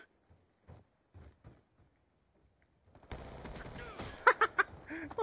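Gunfire in Black Ops 2: quiet scattered thumps give way to a loud continuous burst with a few sharp, louder individual shots near the end.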